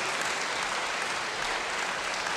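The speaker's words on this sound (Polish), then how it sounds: "Prosimy o wielkie brawa" A concert audience gives steady, dense applause for the town and municipality choir of Gąbin at a 2013 Christmas concert, a continuous wash of clapping that holds evenly throughout.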